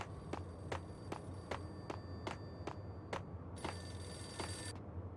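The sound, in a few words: telephone ringing in the video game Max Payne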